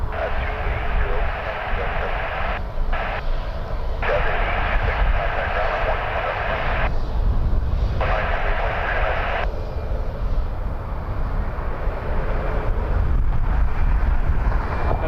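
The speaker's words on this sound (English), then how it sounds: "WestJet Max 8." A WestJet Boeing 737 Max 8 jet at Toronto Pearson airport, its engine roar a steady broadband rumble heard at a distance over wind noise, with a person talking over it.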